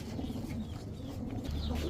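Club pigeons cooing at a pigeon market, soft low coos over a steady low background rumble, brief and fairly faint.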